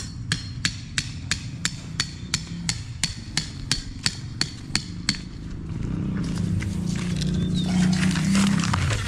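Sharp strikes of a large hammer ring out in a steady rhythm during air-conditioner installation, about a dozen evenly spaced blows, then stop as louder background noise and clatter take over.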